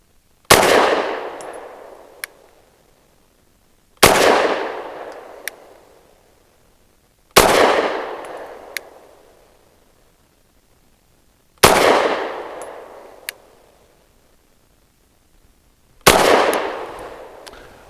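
Five sharp, loud pistol shots from a Walther PDP F Pro at an outdoor range, each spaced about three to four seconds apart, with a crisp crack, a decaying ring, and a faint metallic clink of ejected brass after each.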